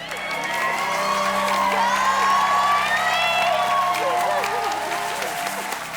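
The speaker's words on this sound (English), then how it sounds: "You guys want to do a cheer for Annalise?" A studio audience at a quiz show cheers for a contestant, a loud, sustained wash of applause with whoops and shouts that holds steady for several seconds and eases slightly toward the end.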